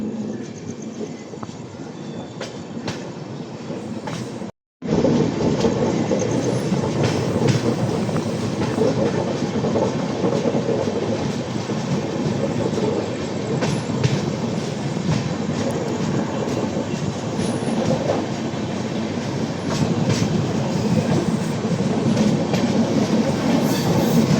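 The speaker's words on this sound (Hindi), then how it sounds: "भाई साहब क्या खूबसूरत कर्व के साथ हमारी ट्रेन जो है समस्तीपुर जंक्शन से जो है निकल चुकी है।" 15235 Howrah–Darbhanga weekly express pulling out of Samastipur Junction on a curve, a steady loud rumble of a long train with clickety-clack wheel beats running throughout and no talking.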